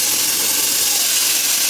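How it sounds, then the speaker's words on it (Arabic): Rice is added to hot oil with already-fried vermicelli, giving a steady, loud, close sizzle that hisses evenly throughout without breaks. "هسه أضيف التمن"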